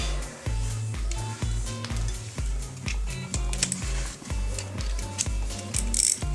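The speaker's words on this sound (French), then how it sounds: "peut-être y remettre un petit coup avec ma petite clé" Small wrench ratcheting on the cylinder head bolts of a Bernard BM4 engine, a steady run of close, crisp clicks in a regular rhythm with short pauses between strokes.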